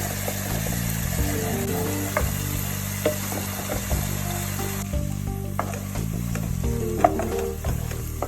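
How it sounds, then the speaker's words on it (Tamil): Tomatoes fry in a pan for chicken pepper roast, a continuous close sizzle broken by repeated scraping stirs and light utensil knocks throughout. "இந்த டொமேட்டோஸ் கொஞ்சம் ஃப்ரை பண்ணணும்."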